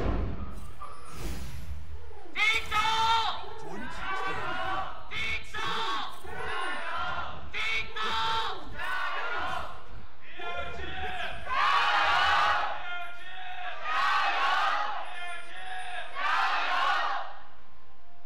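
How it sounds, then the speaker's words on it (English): A large League of Legends esports crowd in a Shanghai arena at an LPL match between Bilibili Gaming and JD Gaming chants loudly in rhythmic bursts, with short pauses between the surges. "Crowd in full force today in Shanghai."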